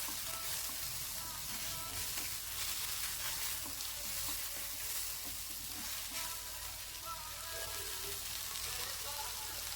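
Finely chopped tomatoes frying in a pan give a soft, continuous sizzle and hiss, with faint stirring now and then and no one speaking.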